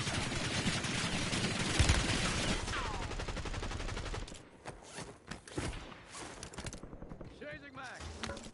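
Sustained automatic gunfire in Call of Duty Modern Warfare 3, a dense rattling stream of shots that breaks off after about four seconds into scattered single cracks and clicks.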